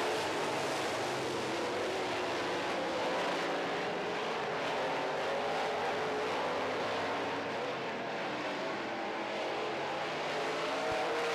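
Loud, continuous roar of modified race car engines at speed on track, with a steady high-revving drone and no talking over it.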